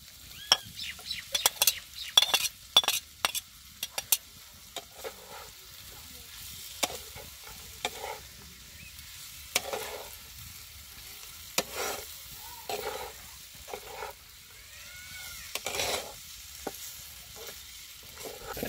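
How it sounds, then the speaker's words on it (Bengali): Tomato and onion frying in a pan before chicken is added, a soft sizzle under repeated sharp clinks and scrapes of a spoon stirring against metal, close and alone. "টমেটো পেঁয়াজ খুব ভালোভাবে ভেজে নিছি এখন দিয়ে দিব মাংস"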